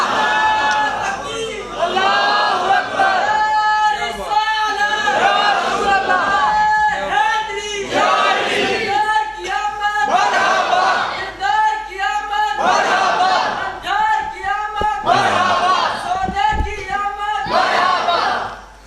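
A crowd of boys chants religious slogans together, with loud, rhythmic massed voices that come in repeated bursts and carry on throughout.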